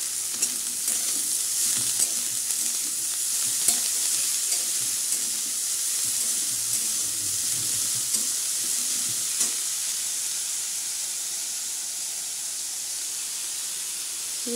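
Chopped greens sizzle and hiss as they are stir-fried in a pan with fried potatoes, a steady loud frying noise with faint scattered stirring clicks and no talking.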